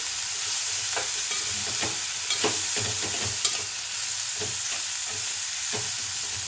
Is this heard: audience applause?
no